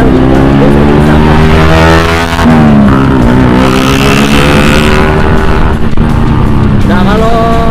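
A Honda Tiger motorcycle engine running while riding on the road, a loud, close, continuous drone with rising and falling pitch as the revs shift, while someone talks over it.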